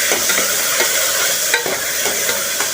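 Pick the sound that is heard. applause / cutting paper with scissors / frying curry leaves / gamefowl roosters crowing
frying curry leaves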